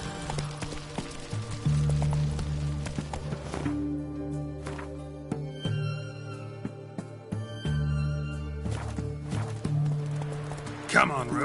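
Horse hooves in The Witcher 3 clop along at a walking pace in bursts, with pauses between runs, over game music and some voices.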